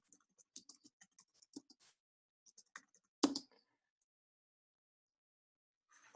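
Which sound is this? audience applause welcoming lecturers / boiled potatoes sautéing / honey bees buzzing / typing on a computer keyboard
typing on a computer keyboard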